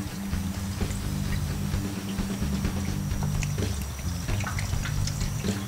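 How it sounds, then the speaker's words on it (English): Acid wash poured into the rusty fuel tank of a 1998 Honda GL1500C Valkyrie motorcycle, a steady close liquid pour and trickle running the whole time with no talk. "I'm going to add the entire contents of the acid wash"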